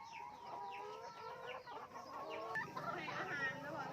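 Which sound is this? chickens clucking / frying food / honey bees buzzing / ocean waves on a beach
chickens clucking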